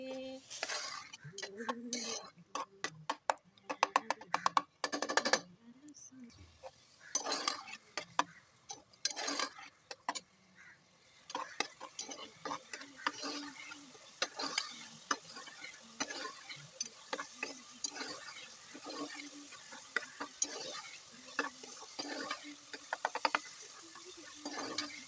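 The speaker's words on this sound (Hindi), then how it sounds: "तो मैं इसको ऐसे हिलाती रहूँगी।" Scraping and clinking of a spoon stirring onions frying in a pan for chicken karahi, with a soft sizzle underneath and a voice talking intermittently.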